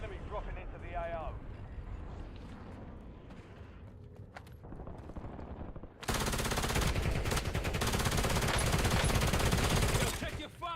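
Gunfire in Call of Duty: Warzone during a Resurgence match, with rapid automatic bursts and shots rattling loudly, growing much denser and more intense partway through, mixed with game voices and in-game sounds.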